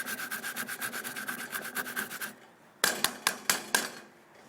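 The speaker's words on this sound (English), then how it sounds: "I grate it right over the pot so the juice from the grated onion goes down into the sauce." Onion grated over a pot of whiskey BBQ sauce, a rapid rhythmic rasping of strokes for about two seconds, then a pause and five sharper, separate scrapes, close and fairly loud with no talk.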